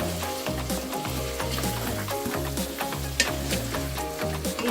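Spices fry in a pan for Bengali aloo dum while being stirred, a continuous close sizzle with rhythmic scraping and stirring strokes throughout.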